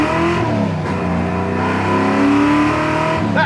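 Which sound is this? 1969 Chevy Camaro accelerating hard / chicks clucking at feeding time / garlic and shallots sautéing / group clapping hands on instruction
1969 Chevy Camaro accelerating hard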